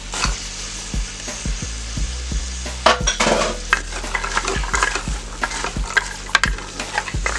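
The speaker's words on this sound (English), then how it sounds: "we're going to let those saute for a second before we add our garlic to it" Onions, celery and carrots sizzle steadily in a soup pot while a utensil scrapes and taps in a regular rhythm, close and fairly loud, with no voices.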